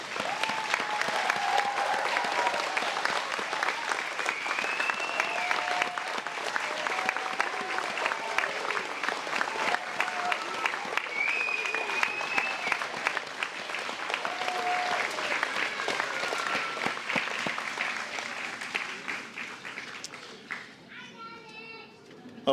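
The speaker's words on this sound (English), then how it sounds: "join me in a round of applause for our graduating firefighters" A crowd at a graduation ceremony for Recruit Course 142 firefighters gives sustained, dense applause for over twenty seconds, with scattered voices and children audible underneath before it tapers off.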